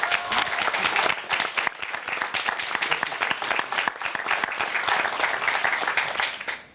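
Audience applause for the Miss Corse committee members at a televised Corsican event, dense steady clapping from a crowd that holds loud for several seconds, then drops off sharply at the end.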